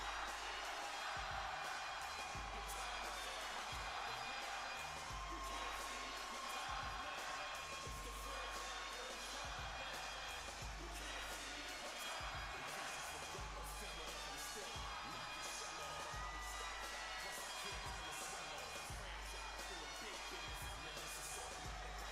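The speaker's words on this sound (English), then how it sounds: "The crowd goes crazy." A wrestling arena crowd at WWE Friday Night SmackDown keeps up a steady cheering roar for over twenty minutes, with scattered thumps and slams. The sound is faint and distant, with talking over it.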